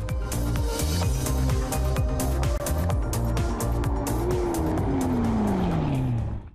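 A McLaren supercar drives hard, its engine note rising and falling through rapid gear changes with tire squeal, loud and close, ending with a falling whine as it passes.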